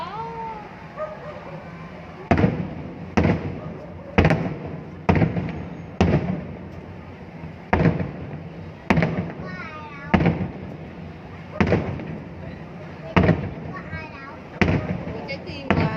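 New Year's Eve fireworks over Ninh Kieu explode in a steady series of sharp booms about once a second, fairly close, with crowd voices and cries around them.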